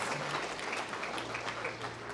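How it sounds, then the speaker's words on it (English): Audience applause at a law enforcement awards ceremony, a steady wash of clapping that holds at an even loudness throughout. "how about a big round of applause for our MC"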